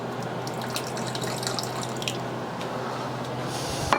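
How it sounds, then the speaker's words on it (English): A quarter cup of rice wine vinegar pours into a pan of moo shu pork, a short steady trickling splash with faint droplets, heard on its own. "We're going to top that with 1/4 a cup of rice wine vinegar."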